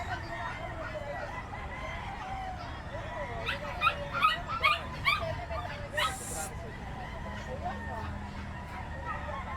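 Dogs at a busy pet market give short yelps, barks and whimpers in a cluster amid constant crowd chatter, with a person speaking nearby.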